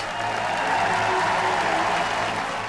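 Audience applause for the Queen at a 2011 performance as the crowd rises in a standing ovation, a dense, steady wash of clapping that stays loud and even throughout.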